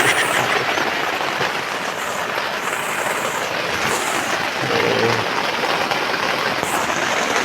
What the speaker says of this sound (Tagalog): Hindi pa rin humihinto yung ulan hanggang ngayon